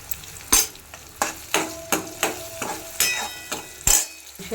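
Bitter gourd curry frying in a pan with a steady sizzle, stirred by a spatula that scrapes the pan in regular sharp strokes, close and fairly loud.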